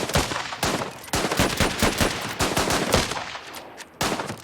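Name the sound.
gunfire in the video game Last Train Home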